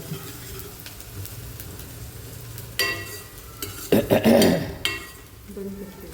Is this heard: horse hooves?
no